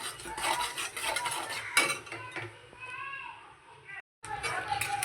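A spoon scrapes and clinks against a pan while pav bhaji is stirred, rapid metallic scraping under a woman's speech and children's voices in the background, ending with a brief cutoff.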